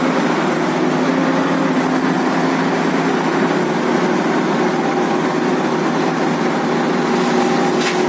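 An FH 200 tracked machine climbing onto a flatbed truck, its engine droning steadily and loudly throughout with a constant low rumble and a faint high whine near the end.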